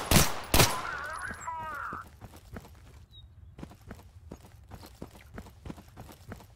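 Gunfire in the Total Conflict: Resistance video game: two loud close shots open the clip, then a string of lighter, evenly spaced sharp knocks follows, with no talking.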